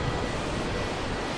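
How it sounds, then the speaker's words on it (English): Steady, loud wind rush buffeting the open air and the microphone on a blustery day while wild camping on the West Highland Way near Kingshouse in the Scottish Highlands, with no speech. "windy day today."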